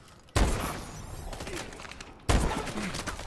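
Gunfire from Call of Duty: Advanced Warfare multiplayer, two loud abrupt bursts about two seconds apart, each trailing into a noisy rattling decay.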